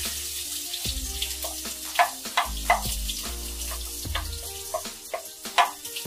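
Chopped onion sautés in oil with mustard and cumin in a pan, a steady sizzle broken by repeated scraping strokes and clinks of a spatula at close range, with no one speaking.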